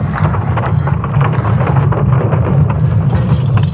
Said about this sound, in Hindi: ईसा ने तो 5 मिनट का एक वीडियो भी जारी किया है जिसमें आप अर्थ के मैग्नेटिक पावर की आवाज को सुन सकते हैं।